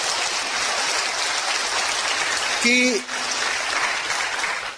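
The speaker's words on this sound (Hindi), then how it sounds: "आप जोरदार तालियां बजाइए" Audience applause at a talk, a dense continuous patter of clapping that briefly swells with a short voice cutting through midway before the clapping carries on.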